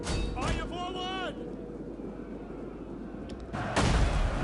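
Artillery launching rocks in the video game Total War: Rome II, a dense, rumbling barrage that swells near the end, with a soldier's voice briefly heard over it.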